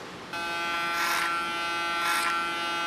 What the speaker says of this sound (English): With my clipper I'm going to work the side.